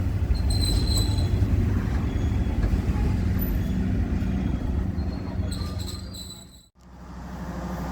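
A KA Commuter Supas train pulls into Surabaya Kota station with heavy rumbling wheels and scattered high wheel squeals, loud and close, then a brief sharp drop before the rolling noise resumes, with no talking.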